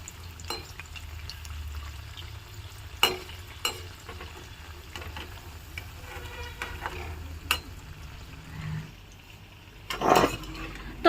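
Vegetable bread cutlets keep frying in oil, a quiet steady sizzle broken by a few sharp clinks and scrapes as they are turned, with a louder knock near the end.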